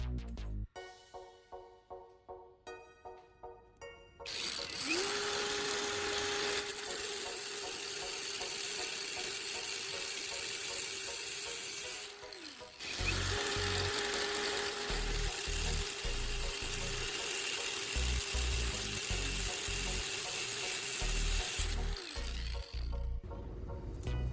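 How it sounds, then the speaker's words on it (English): A cutting machine slices hacksaw blades along marked lines. Ratcheting clicks come first, then a steady, harsh grinding whine in two long passes with a brief dip between. "I use a cutting machine to cut along the marked lines on the hacksaw blades."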